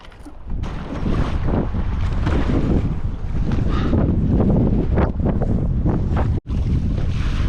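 Waves splash against a paddling kayak at sea, loud and close, with wind buffeting the microphone and continuous turbulent water rushing, broken by a brief cutout near the end.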